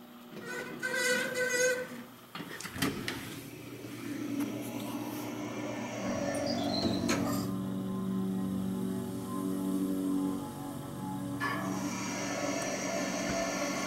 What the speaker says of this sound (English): That's the elevator.